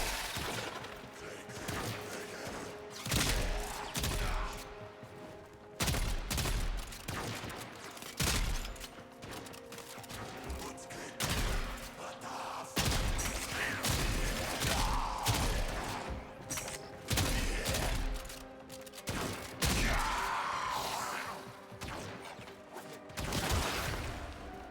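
Rapid low-recoil weapon fire in a video game, dense bursts of shots crackling continuously with mechanical clatter and impacts throughout, loud and steady over the whole stretch.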